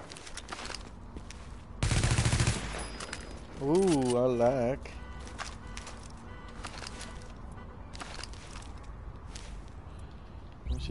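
Weapon fire in a PS4 video game: a loud burst of rapid shots, then a further stretch of firing and clicks, with someone talking between and over the sounds.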